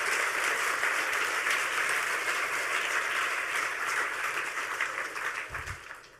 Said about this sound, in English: Round of applause for him if you don't mind.